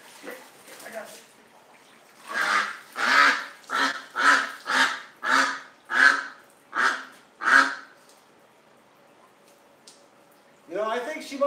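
A little duck with a bad leg quacks in a quick run of about ten loud, close calls, evenly spaced, while a person talks softly around it.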